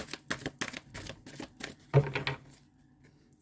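Tarot cards shuffled and drawn by hand, a quick series of close crisp riffling flicks and snaps, then a brief slap as a card is laid down, trailing off into quiet.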